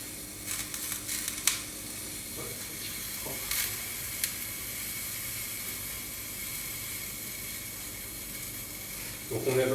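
Squid sizzling in a hot pan in a restaurant kitchen as a garnish for risotto, a steady, close hiss and crackle throughout with a few sharper pops, with someone speaking over it at times.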